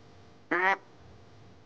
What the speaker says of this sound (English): There's a mallard.